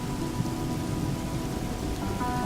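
Steady rain pours in the Smoky Mountains backcountry during a thunderstorm, a dense, even hiss of drops with a low rumbling undertone and no voices.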